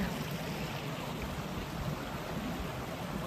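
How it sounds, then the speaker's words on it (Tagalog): Steady, continuous flow of water on temple grounds, a soft broadband rush at even level throughout with no voices. "Nakaka-relax kasi mga agos ng tubig"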